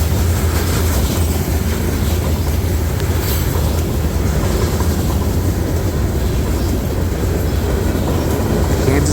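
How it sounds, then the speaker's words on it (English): A long freight train of hoppers, boxcars and gondolas loaded with scrap iron rolls past nearby, a loud steady roar of wheels and rumbling cars throughout with no pauses. "hoppers, more boxcars, more gondolas loaded with scrap iron, and a lot more hoppers."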